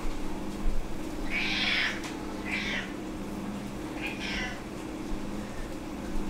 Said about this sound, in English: I'm afraid I disrupted my cat.